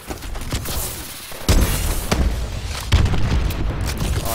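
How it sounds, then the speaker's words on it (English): Missile strike explosions in Call of Duty land as heavy booming blasts, with big impacts around the 1.5 and 3 second marks over continuous rumbling gunfire and debris noise, loud and close. "Friendly missile strikes inbound."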